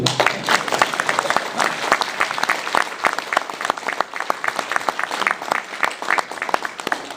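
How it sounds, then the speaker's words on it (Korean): A lecture audience in Seattle breaks into loud, dense applause, a sustained crackle of many clapping hands close by, with no talk. "일단 박수 한번 하시죠."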